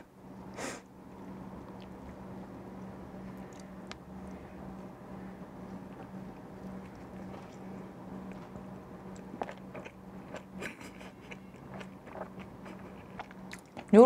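Someone eats suanlafen, a spicy Chinese hot-and-sour noodle soup with thick sweet potato glass noodles, chili and garlic, close up, with soft chewing and occasional crunchy bites over a low steady hum, with no talking.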